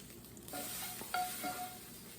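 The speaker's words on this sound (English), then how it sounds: "The pan was already hot, and you can see that from the fact that the eggs have already started browning." Eggs fry in an already hot pan, a faint, steady sizzle with a soft clink or two of a utensil against the pan and no voices.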